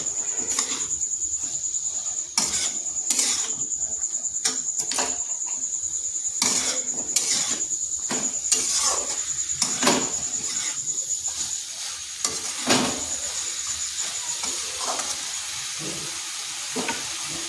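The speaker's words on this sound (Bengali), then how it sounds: "এরপর এখানে দিয়ে দিচ্ছি ঝিঙে আর আলু যে কেটে রেখেছিলাম সেইগুলো ভালো করে মশলার সাথে মিশিয়ে নিচ্ছি" Ridge gourd and potato pieces are stirred with spices in an oiled pan, with a continuous soft sizzle and a thin high hiss underneath. Repeated spatula scrapes and clicks land irregularly, close by.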